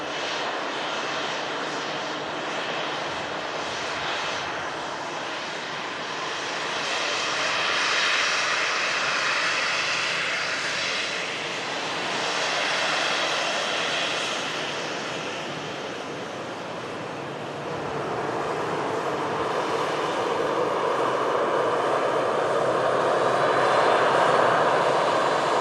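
An EasyJet airliner's engines rumble in a long, steady roar that swells and eases in broad waves, like a distant pass, with no talk over it.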